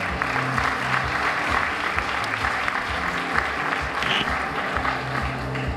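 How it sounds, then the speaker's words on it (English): Audience applause at a teacher awards event, a dense, even patter of many hands clapping throughout, sustained at a steady level with faint crowd murmur beneath. "Let's give her a round of applause."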